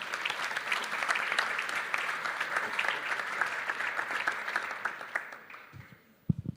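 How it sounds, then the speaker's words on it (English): Assembly delegates in a Barcelona general meeting hall applaud after a unanimous vote, steady dense clapping that carries on for several seconds, then fades out and ends with a couple of sharp knocks. "I think that calls for an applause"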